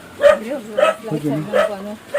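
Several dog barks and yips close by, interleaved with excited whiny vocal sounds, irregular and fairly loud.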